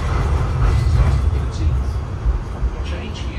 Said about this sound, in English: I'm going to try catch the free tram.